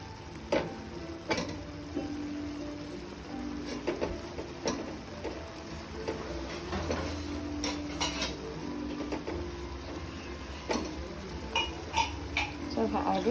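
A spoon or spatula stirring chicken lung fry in a pan on high heat, with irregular metallic clinks and scrapes against the pan over a soft sizzle, close by.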